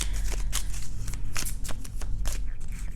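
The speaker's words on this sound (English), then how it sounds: "Then I'm gonna pull another card" Tarot cards being shuffled by hand in a close, continuous riffling flutter with quick repeated snaps and slides, steady and fairly loud, no talking.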